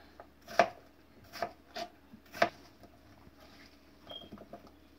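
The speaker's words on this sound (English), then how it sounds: "Just cut everything into cubes." A knife cuts fruit into small cubes for a fruit salad, giving a handful of sharp, separate chops on a board at an uneven pace. The chops are close and crisp over a quiet background.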